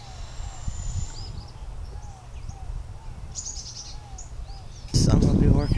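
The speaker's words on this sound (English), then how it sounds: "These little sparrows are so cute." Sparrows chirp in short, repeated tweets outdoors at a garden trellis build, light and fairly close over a low rumbling background, with a louder burst of noise near the end.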